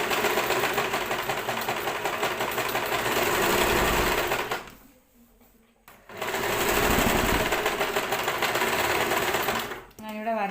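A sewing machine stitches a churidar in fast, steady mechanical rattling runs, close and loud, pausing briefly midway before resuming, then stopping again near the end.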